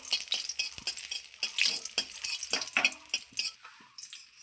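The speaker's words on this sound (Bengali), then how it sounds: "আমি শুকনো লঙ্কাটা ভেজে তুলে নেব আগে" Dried red chillies fry in oil with a soft, crackling sizzle, overlaid by repeated scraping and clinking of a spatula stirring in the pan at moderate volume.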